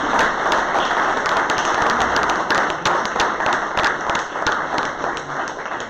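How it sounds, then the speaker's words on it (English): An audience at a drone and sustainability tech talk event gives a dense, sustained round of applause, many hands clapping at once close by, gradually thinning toward the end. "So I'd like to give a big round of applause to our speakers again and to the audience"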